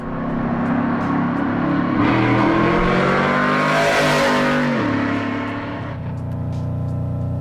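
A cammed, built 6.2 liter Chevy Avalanche truck engine revs hard and close, its loud choppy exhaust climbing to a peak and falling back to a lumpy idle.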